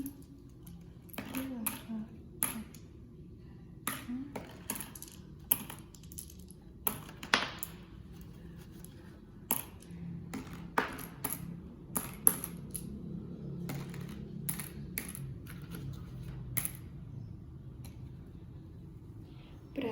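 Small buttons drop one by one into boxes, making crisp, scattered clicks and light taps at an irregular pace under quiet room tone.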